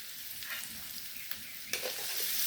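Turmeric and cumin paste sizzling in hot oil in a pan, a brief bright hiss with a couple of soft stirring scrapes and a sharper burst near the end; no voices.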